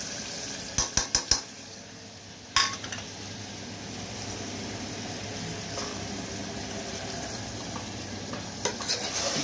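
Mutton frying in a pan with ginger and garlic, a steady close sizzle with a few sharp clinks of a utensil against the pan early on and near the end.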